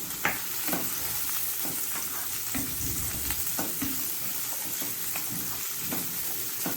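Onions frying in about three tablespoons of hot oil in a pan, a steady close sizzle and hiss with occasional stirring scrapes and pops, no voices.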